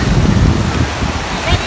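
Ocean waves at a surf spot, a loud broad rush and wash of surf mixed with wind buffeting the microphone, swelling and easing over a short stretch.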